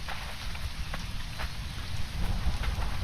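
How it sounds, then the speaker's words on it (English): Steady heavy rain pours in the Conan Exiles survival game, a dense hiss over a low rumbling thunderstorm bed, with faint droplet patters and no voices. "Pretty good storm happening."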